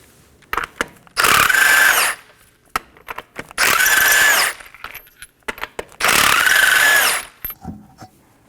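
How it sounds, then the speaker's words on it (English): A power tool with a 21mm socket spins off the lug nuts of a Nissan Maxima front wheel in three loud, steady whirring bursts, each about a second long, separated by clicks and clanks of handling. "Now let's go ahead and remove our front wheel using a 21mm socket."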